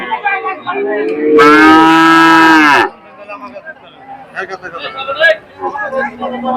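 A cow gives one loud, drawn-out moo lasting over a second at the busy Kalampur cattle market, close by, with people talking before and after it.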